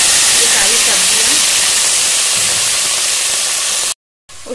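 Cumin, bay leaf and dried red chillies sizzling in hot oil as a tempering for khichdi, a loud continuous hissing fry that cuts off abruptly near the end, with no talk.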